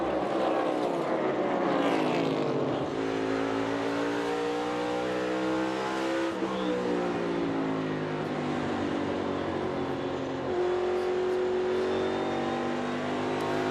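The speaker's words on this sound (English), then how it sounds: "Hear how much he's out of the throttle, letting that car roll." A NASCAR Cup Series stock car off the throttle and rolling through a turn at Richmond during a race, its engine note sliding down and easing, with other cars droning steadily all around.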